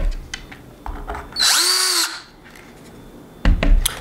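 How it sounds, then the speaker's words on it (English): A power drill bores holes in the top of an aluminum soda can for a DIY alcohol stove, whirring loudly and alone for about half a second, followed by scattered handling clicks and a brief burst of metallic rattling. "drill out the small holes on the outside, and then use the thicker bit in the middle"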